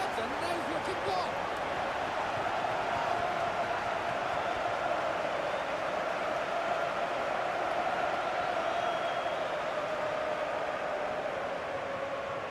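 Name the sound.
stadium crowd cheering in video game EA FC 26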